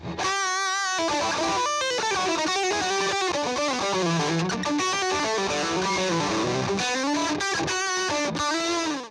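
A Glarry GST HH super-strat electric guitar plays through a poor-sounding amp with the gain turned up, giving loud, sustained, heavily distorted chords and notes that ring continuously and fill the whole clip with no talking.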